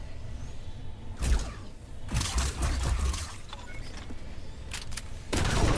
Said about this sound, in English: you hold right click to lock on and you shoot